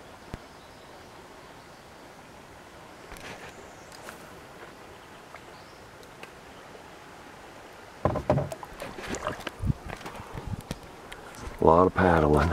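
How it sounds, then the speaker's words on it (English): Paddles splash and knock against a small boat working its way up a mountain stream, a few close, irregular strokes breaking out late in the clip after a quiet stretch of soft water and outdoor ambience. "A lot of paddling."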